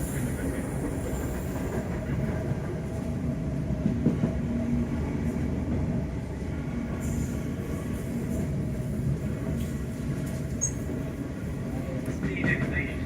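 A South Western Railway train on the run from Strawberry Hill to Waterloo via Wimbledon gives a steady, continuous rumble and rattle from onboard, with faint squeaks and clicks over the constant drone.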